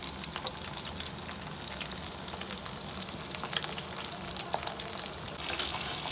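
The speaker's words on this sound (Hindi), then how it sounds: "आँच को फुल करा हुआ है और हम इसको अभी तलते हैं।" Fish frying in hot oil over full heat, a dense, steady crackling sizzle with rapid spitting pops throughout, close and fairly loud with no voices.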